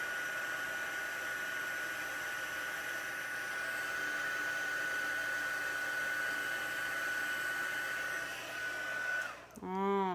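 A heat tool blows hot air for card embossing, a steady airy whoosh with a faint whine that holds for about nine seconds before cutting off abruptly with a brief falling tone. No one speaks.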